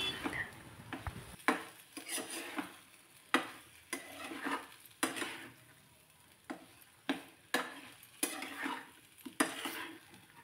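Boiled baby potatoes are sautéed in gravy, a close, rhythmic series of spoon scrapes and clanks against the pan over a low sizzle, repeating roughly every second, with nobody speaking.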